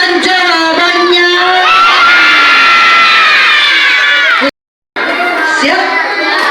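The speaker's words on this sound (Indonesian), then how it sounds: "Teriakan jawabannya." Children shout answers to a simple math question in a classroom, a loud sustained chorus of young voices that cuts out briefly, then resumes.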